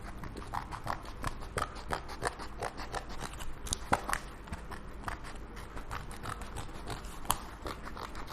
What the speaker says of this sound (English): take the yogurt cup and behind you have to cut a circle again, a small hole